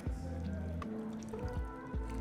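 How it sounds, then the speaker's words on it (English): A cocktail made with lime juice and allspice is poured into a Collins glass over ice, a brief liquid splash and gurgle with small drips, heard close under faint background music. "Pour into a Collins glass over ice,"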